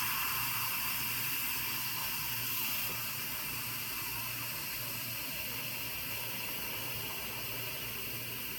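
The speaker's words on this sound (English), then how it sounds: "you can hear that the sound of the steam is getting less and less" Loud, continuous hissing of steam escaping under pressure from an Instant Pot pressure cooker's release valve, close by, holding steady and tapering very slightly toward the end.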